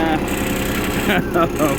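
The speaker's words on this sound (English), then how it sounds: "The Kubota's idling outside." A Kubota RTV900 utility vehicle, just repaired after a head gasket fix, idles outside with a steady low engine putter, heard faintly beneath someone talking nearby.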